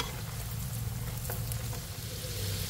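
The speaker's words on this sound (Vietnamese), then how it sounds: "Mình chiên cho nó vàng rồi mình vớt ra." Fish balls and sausages fry in hot oil, giving a steady, close sizzle and bubbling with a low hum underneath. Faint scraping sounds come and go and no one speaks.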